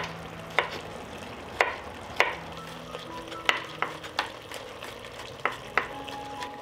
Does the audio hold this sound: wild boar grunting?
no